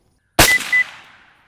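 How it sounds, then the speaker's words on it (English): A rifle fires one sharp, loud shot downrange at a field range while its scope is being zeroed, followed by a ringing tail that fades over about a second. "Send a couple more rounds downrange."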